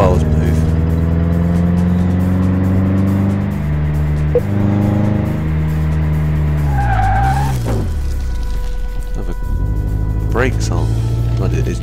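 Engine of a 1927 Bentley 4½ litre Blower with worn tyres and drum brakes in Car Mechanic Simulator 2018, revving and dropping through gears, then a loud tyre skid as it brakes, with someone talking over it.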